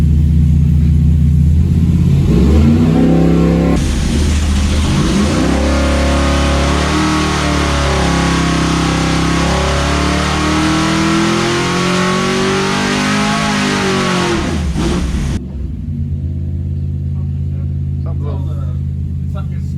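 Big block 400 engine with a Holley Street Dominator intake and 750 carburetor running on a dyno, a loud sustained roar that climbs and swells in pitch as it revs, then drops off abruptly and settles into a rough idle.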